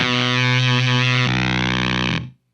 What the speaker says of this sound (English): You can get that to kind of fuzz to flub out there and create wild effects.